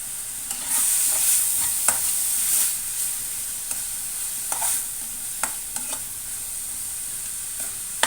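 Onion paste and ginger-garlic paste frying in a pan for chicken curry, a bright steady sizzle with intermittent stirring scrapes, close up and without speech.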